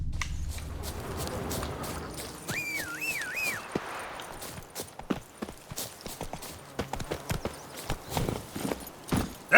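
Hooves of the horse Roach in The Witcher 3 clip-clop in a steady rhythm, fairly close, over a faint in-game ambience with a brief whistled tune partway through.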